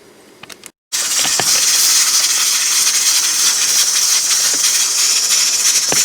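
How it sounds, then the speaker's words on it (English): A pressure cooker's weight rocks on its vent while a steady, loud steam hiss fills the air, following a few brief clicks and a short moment of silence at the start. "my pressure cooker has started to rock"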